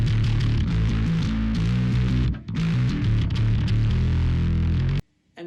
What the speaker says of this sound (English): If you move it all the way down, you get a really muddy tone.